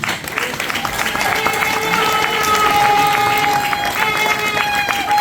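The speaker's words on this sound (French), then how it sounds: "si nous pouvons également les applaudir" An audience at an installation ceremony of Union Sacrée sections applauds the South Africa section with steady, dense clapping and some cheering that stays loud throughout, while a voice carries over the crowd.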